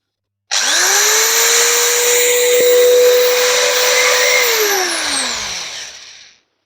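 A heavy-duty electric drill set to hammer mode at its lowest speed and torque whines loudly and steadily for about four seconds alone, then winds down as it is released.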